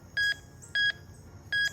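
A Ricomax GC-1037 metal detector signals a silver coin with three identical short electronic beeps, evenly spaced and clear over a low background hum.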